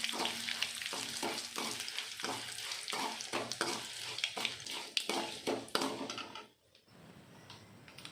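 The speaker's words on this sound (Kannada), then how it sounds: "2 ಬ್ಯಾಡಗಿ ಮೆಣಸಿನ್ಕಾಯಿ ಮುರಿದು ಹಾಕ್ಕೊಂಡು ಎಣ್ಣೆಲಿ ಫ್ರೈ ಮಾಡ್ಕೊಬೇಕಾಗುತ್ತೆ" Byadgi chillies, chana dal, urad dal and mustard seeds fry in hot oil in a pan for capsicum vangi bath, with a steady sizzle broken by regular scraping stirs before the stirring stops and a quieter sizzle remains.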